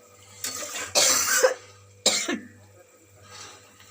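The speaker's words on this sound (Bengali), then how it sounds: "কাশির ওষুধ খাচ্ছি তাও যেন কাশিরা যাচ্ছে না" Several hoarse coughs from a woman with a lingering cough, close and fairly loud in two bursts, the first a quick pair, with a faint low hum beneath and a softer sound trailing off at the end.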